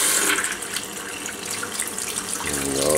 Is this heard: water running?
yes